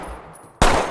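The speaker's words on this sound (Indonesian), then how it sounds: "Ovi mengambil pistol dan menembak Gaspar hingga tewas untuk menyelamatkan Tyler." Single pistol shot from a film scene, one sharp loud crack hitting abruptly after a low ambient hum and trailing off in a brief reverberant tail.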